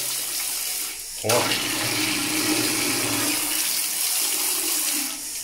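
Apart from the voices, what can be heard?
weak water jet from a shower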